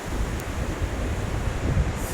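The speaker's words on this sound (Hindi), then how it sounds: "बहुत ज़्यादा हवा चल रही है, आपको बहुत ज़्यादा आवाज़ आएगी बैकग्राउंड में" Steady strong wind gusts through a high Himalayan valley in Spiti, a continuous loud rumbling rush against the microphone, with no talking.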